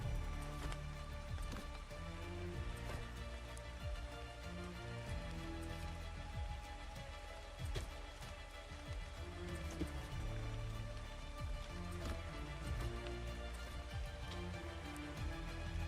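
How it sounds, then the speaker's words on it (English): Rain falls in the video game Ark Ragnarok, a steady wash of hiss layered with game ambience and a low rumbling bed, continuous and moderately loud. "At least until the rain goes away,"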